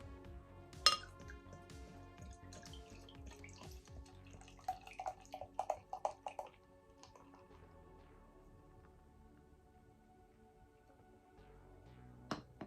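Ruby red ale is poured into a glass with soft glugging and trickling, a clink of glass and some light handling knocks. It is fairly quiet and close, with a faint fizz afterward.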